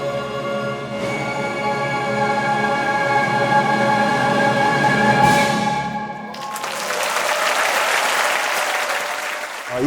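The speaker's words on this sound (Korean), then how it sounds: "이에 객석에서는 기립박수와 환호로 화답했다." Concert audience at a choir performance with classical instruments and Korean folk song, rising in a standing ovation: lingering sustained tones give way to dense, loud applause and cheering that fills the hall.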